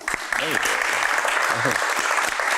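An audience at a talk show breaks into loud, steady clapping that fills the moment, with a voice briefly audible over the applause.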